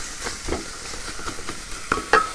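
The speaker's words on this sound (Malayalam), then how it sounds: "നമുക്ക് നല്ലതുപോലെ ഒന്ന് ഇളക്കി ഒന്ന് മിക്സ് ചെയ്ത് കൊടുക്കാം." Beef roast being stirred in a hot pan, a steady low sizzle with soft scraping strokes and a couple of sharper clinks near the end, close and alone without talk.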